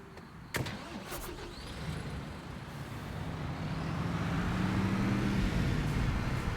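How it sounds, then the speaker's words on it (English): Flatbed truck in the Construction Simulator video game: a short mechanical clunk, then an engine hum that builds gradually into a steady, louder drone. "Enter the flatbed truck."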